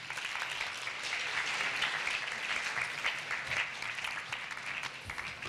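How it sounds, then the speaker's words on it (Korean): An audience at a Korea University electrical engineering graduate seminar welcomes a guest professor with sustained, even applause from many people, filling the room for several seconds. "박수로 환영해 주시기 바랍니다."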